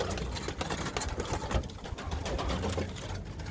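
Pigeons coo nearby in soft, repeated low calls over faint background rustling.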